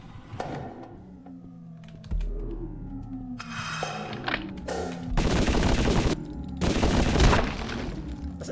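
Submachine gun fire in a video game, with short and longer rapid bursts of loud close shots separated by brief pauses, along with clicks and game effects between volleys.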